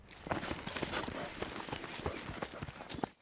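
Horses' hooves clip-clop in a quick, uneven rhythm as riders cross the grassy Little Bighorn battlefield in Montana, close and moderately loud, with no talk over the steady run of hoofbeats.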